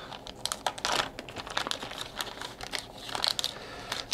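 Someone opens the plastic-wrapped packaging of a Teotihuacan deluxe board game set, close by and quiet, with irregular crinkling, tearing and tapping bursts and no talk.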